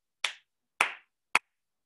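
Three sharp hand claps set in an uneven rhythm pattern, two longer ringing claps followed by a shorter crisp one, loud and close with silence between them.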